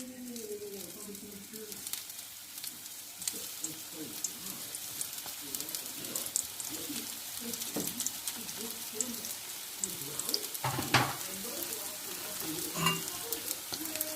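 Chicken cheese samosas fry in hot oil over a low flame, giving a steady crackling sizzle with scattered pops and a few louder bursts; a voice murmurs faintly underneath.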